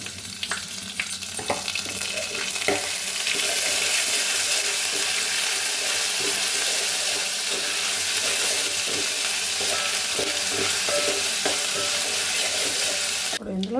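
A steady, dense sizzle of ginger garlic paste frying in a hot tempering of cumin, mustard seeds, dried red chillies and curry leaves, with occasional spoon scrapes against the pan. It carries on loudly throughout with no talking.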